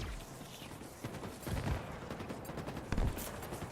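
SMG gunfire in the shooter game Halo Infinite, a dense continuous rattle of rapid shots with a few heavier bursts, mixed with other game noise.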